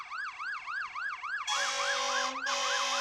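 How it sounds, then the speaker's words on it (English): Fire engine siren at a 2007 homecoming parade in Davison, wailing in steady rising-and-falling sweeps, then a stronger, brighter layer joins halfway through as the truck draws near, loud and alone with no talk. "sounds like our fire department's here"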